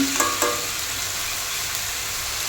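Soaked rice going into a hot pot for khichuri, two light clinks of a spoon at the start, then a steady soft frying hiss that carries on alone.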